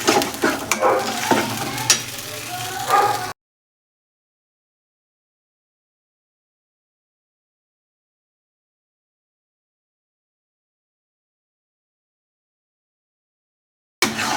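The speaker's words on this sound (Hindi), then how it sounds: "हल्दी को हमें धीमी आंच पर ही भूनना है, जिससे हल्दी अच्छे से भुन जाए और जले नहीं" Turmeric roasting in ghee in a kadhai over a low flame, stirred continuously, gives a close scraping and soft sizzle for about three seconds, then cuts to silence before a brief return at the very end.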